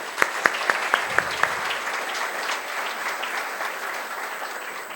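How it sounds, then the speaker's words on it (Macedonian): Audience applause at a bridal fashion show, opening with a few sharp individual claps before settling into steady, continuous clapping from a sizeable crowd heard at moderate distance. "слободно аплауз"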